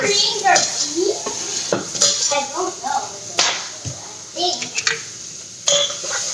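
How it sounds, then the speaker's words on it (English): Mushrooms and onions tipped into a pan while shrimp pho with spinach is cooked, giving clattering pan and utensil knocks and stirring scrapes, with a voice chattering over the kitchen noise. "So now I'm going to go ahead and add these mushrooms and onions into my pan."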